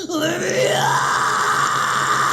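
One long, harsh scream distorted through an amp simulator, sustained and sliding upward in pitch before holding steady, loud and buzzy.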